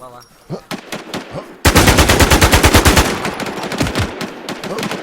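Rapid automatic gunfire in a PVP shooter game, a few scattered shots first and then a loud, sustained burst of machine-gun fire that gradually thins out, with a player's voice talking over it.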